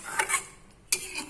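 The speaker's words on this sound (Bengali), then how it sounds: "ভালো করে নেড়ে নেব।" Spoon scraping and clinking in a pan as fish egg curry with garam masala and ghee is stirred, a few short metallic scrapes close by with a pause between them.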